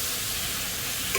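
Chicken and vegetables fry steadily in a pan for chicken egg fried rice, giving a dense, continuous sizzle with stirring noises throughout, close and even in loudness.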